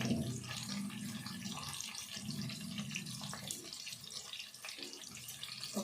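Green chillies rinsed under a running kitchen tap, a steady close splash of water over the sink with small shifts as the chillies are turned, no talking.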